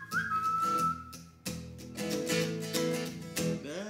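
A person whistles a melody near the start, then music with layered instruments carries on, with more tuneful sounds weaving through the rest.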